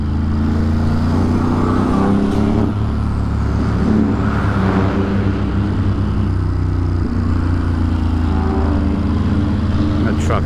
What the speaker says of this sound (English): That truck is loud as shit.